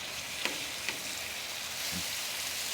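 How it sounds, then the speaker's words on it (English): Pork browning on a Muscle Grill griddle, a faint steady sizzle with a few soft taps and scrapes. "browning our pork is the mission"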